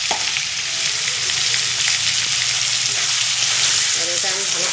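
Potatoes frying in a pan with ginger paste, turmeric and salt give off a loud, steady sizzle that holds evenly from start to finish.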